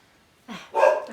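A dog barks twice in quick succession indoors, a short yip followed by a louder, fuller bark, with no talking over it.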